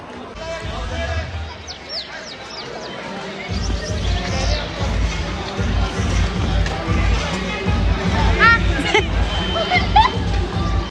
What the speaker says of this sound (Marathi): एवढी गर्दी आहे कारण वीकेंड असल्यामुळे गर्दी आहे